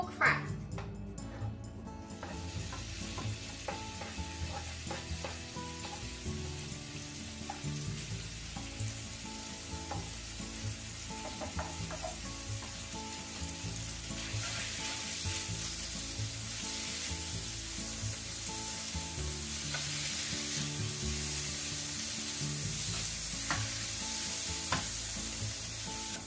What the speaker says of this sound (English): Heat up sesame oil in the frying pan. And let's cook the pork first.